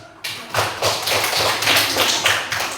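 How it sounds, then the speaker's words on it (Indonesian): Classroom of fourth-grade pupils at an elementary school clapping together, a steady burst of rapid hand claps that fills the room for about three seconds, close and fairly loud. "Tepuk tangan untuk"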